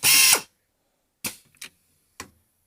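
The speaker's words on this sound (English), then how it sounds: "I'm going to go ahead and click cycle start. Let's see this machine run." A pneumatic bottle capping machine running at 90 psi makes a loud burst of air and mechanism noise, followed after a pause by three short sharp clacks spaced irregularly, with silence between them.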